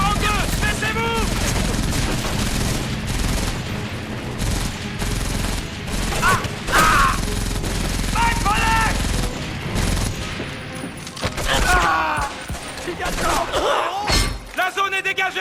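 MG42 machine gun fire rattles in a Medal of Honor battle, loud and nearly continuous, mixed with explosions, shouted voices and game music.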